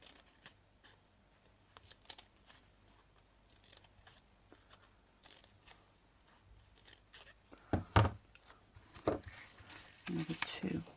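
Scissors snip through paper to make paper flowers, with quiet scattered cuts early and then a cluster of louder, closer crisp snips and rustles near the end, while a person speaks in between.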